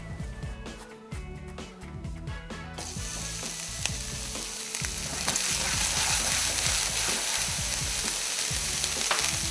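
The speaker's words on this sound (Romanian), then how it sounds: "Pătrunjelul îl mărunțesc." A Moulinex Fresh Express mini chopper chops parsley with a loud, continuous mechanical whir and rapid clattering grind that grows denser and brighter after a few seconds. No one speaks.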